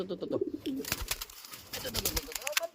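Soft, low racing pigeon coos repeat close by, mixed with rustling and handling noise and a bit of nearby chatter.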